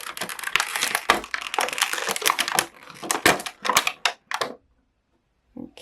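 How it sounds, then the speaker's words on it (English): A small Star Wars Micro Galaxy Squadron toy TIE Fighter is worked out of its plastic packaging, giving a dense run of loud, close crackling and crinkling plastic clicks that thin out and stop, followed by near silence. "I'm not quite sure the best way to get this one out. Don't want to have to cut the plastic"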